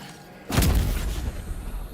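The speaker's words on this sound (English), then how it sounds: "There's one hell of a thud, though, for that, knockout sound." A heavy knockout thud from the video game Death Stranding 2, a single deep, loud impact that lands abruptly and rings out into a sustained rumbling tail, with no talking over it.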